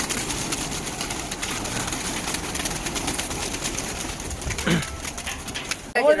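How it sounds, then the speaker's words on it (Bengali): Giribaz pigeons in a loft coo in soft, repeated low calls over a busy background of faint voices and movement, ending with a short burst of louder noise. "যতগুলো কবুতর আমি দেখতে পাচ্ছি পেছনে, প্রত্যেকটা ভালো সুন্দর সুন্দর কবুতর আছে"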